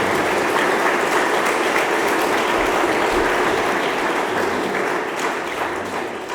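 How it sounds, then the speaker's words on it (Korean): Wedding guests give the newlyweds a sustained round of applause at the ceremony, dense steady clapping from a crowd that tapers slightly toward the end. "이제 부부가 된 이 두 사람을 큰 박수로 한 번 더 축하해 주시기를 부탁드립니다."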